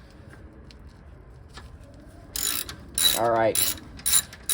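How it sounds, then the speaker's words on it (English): Socket ratchet clicking in short rapid bursts while unbolting a 14 mm strut bolt on a 1981 Toyota Celica, close and fairly loud after a quiet start, with a brief spoken comment. "we need to unbolt this bolt right here with a 14 millimeter socket"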